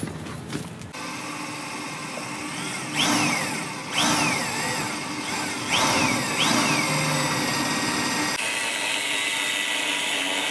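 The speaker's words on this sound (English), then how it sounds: "We're gonna drill the holes out for the cable clips" A power drill whines and surges repeatedly as it bores cable-clip holes into a truck chassis, with several rising bursts over steady workshop noise, close and loud.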